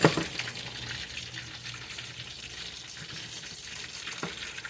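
Onions sizzling in a hot pan, a steady dense frying hiss with faint stirring and clatter, close and continuous with no talking.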